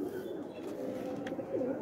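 A pigeon coos softly in a low, rolling murmur, faint and fairly close, over a light background hiss.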